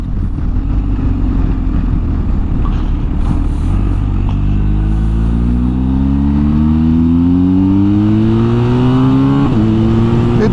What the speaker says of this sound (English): It sounds good too when you rev the guts out of it